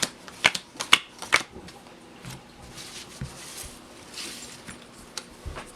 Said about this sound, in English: And then you want to deal out yourself 7 cards.